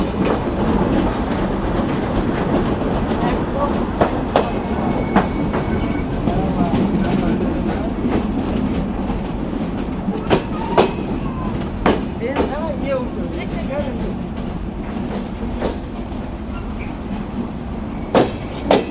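A Benapole Express passenger train with CRRC and PT INKA coaches runs fast along the line, giving a steady rolling roar with sharp, irregular wheel clacks and knocks throughout.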